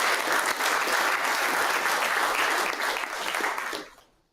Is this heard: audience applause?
yes